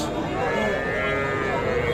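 A calf moos at a busy village cattle market in Kaharol, a drawn-out low call running under steady crowd chatter and nearby talk throughout.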